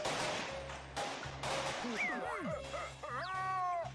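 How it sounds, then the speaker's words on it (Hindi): Cartoon fireworks pop and burst in a rapid series of sharp bangs with rising whistles, mixed with animated character voices talking over the blasts. "यहाँ सामने आतिशबाजी हो रही है।"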